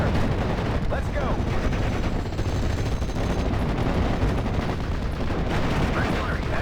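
Heavy machine gun position coming under fire in Steel Division: Normandy 44, with a dense, continuous roar of gunfire and artillery-like rumble filling the whole stretch, loud and unbroken, with battlefield voices mixed in.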